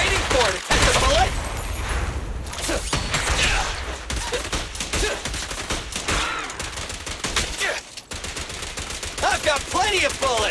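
Rapid gunfire from a Genshin Impact Pyro Archon Quest battle: loud bursts and single shots crackle unevenly through the fight, mixed with clanking weapon sounds and a voice shouting in combat.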